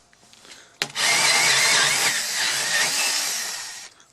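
A hole saw on a power drill grinds loudly and steadily through a wooden door for about three seconds, then cuts off.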